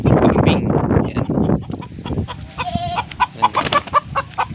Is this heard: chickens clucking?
yes